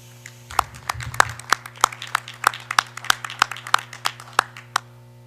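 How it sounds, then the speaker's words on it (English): Sparse clapping at a school board meeting honoring newly elected directors, a small group producing distinct, fairly evenly spaced claps over a low steady hum in a quiet room. "if we can give everyone that was elected a round of applause"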